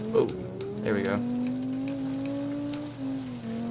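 The engine of a Ferguson AX300 car in BeamNG.Drive on a Pikes Peak gravel hillclimb, a steady droning hum holding a fairly even pitch with slight dips, beneath someone talking over it.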